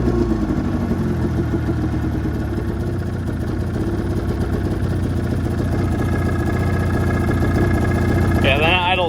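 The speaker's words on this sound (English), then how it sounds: "then idle's pretty dang low. So I think I'm gonna have to turn up the idle." A Mountain Cat engine idles low and steady with a continuous, even mechanical rumble that stays close and loud throughout, and a brief higher whine rises near the end.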